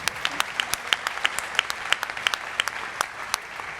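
An audience at a startup demo day claps with distinct individual hand claps audible over a light, steady wash of applause.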